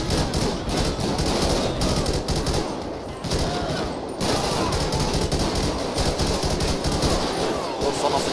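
Sustained automatic gunfire from a rooftop in GTA 5 during a police shootout at a station, dense rattling bursts running almost continuously, with a short dip in intensity midway.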